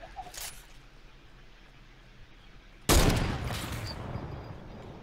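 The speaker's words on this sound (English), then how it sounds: "this rapid fire SMG's fucking trash" Rapid-fire SMG gunfire in a video game bursts in suddenly partway through as a loud, dense sustained volley, trailing off slightly, after a quieter stretch of faint background noise.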